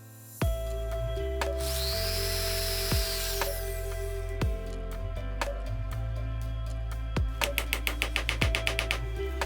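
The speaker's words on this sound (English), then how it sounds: "Just insert the nail into the drill chuck and drill into the wood." A power drill spins a nail used as a bit into wood, giving a steady close motor whine with repeated sharp clicks and knocks, picking up into rapid ticking near the end.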